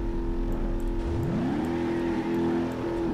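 A car engine in the BeamNG driving game rises in pitch as it revs, then holds a high, steady whine at sustained high revs, loud and close with no talk.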